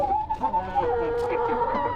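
Tiger breed hens clucking and calling close by in a steady, overlapping stream of rising and falling tones that lasts throughout, with no clear speech.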